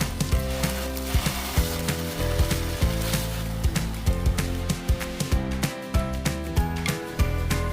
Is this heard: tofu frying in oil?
yes